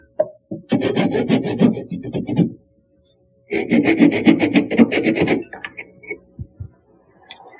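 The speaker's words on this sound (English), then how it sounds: "I've rounded over the edges of the arm, and I've also rounded over the back corner of this post" Wooden Windsor chair arm edges being rounded over by hand, a dry rasping rub in two long bursts of rapid strokes separated by a pause, close and fairly loud, ending with a few lighter scrapes.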